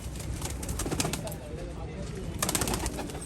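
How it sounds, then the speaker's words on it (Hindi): Saharanpuri pigeons coo softly nearby amid scattered bird sounds, with a person's voice faintly in the background. "ये देखिए दोस्तों एक मादी शानदार वाले कबूतर।"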